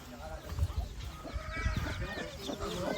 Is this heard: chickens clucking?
yes